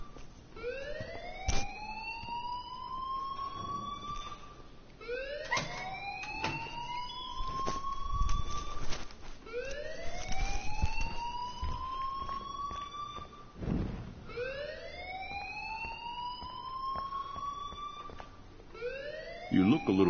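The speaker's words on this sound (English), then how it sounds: "please turn off that alarm since that's your job" Electronic alarm in the Life is Strange video game, a rising siren-like whoop repeating roughly every four seconds, loud and steady beneath occasional background noise.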